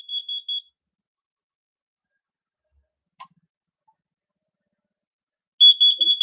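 Shrill, high-pitched beeping from an old smoke detector dating from 2004 and running unplugged, a quick burst of rapid pulses, a long silence with a faint click, then another close, loud burst.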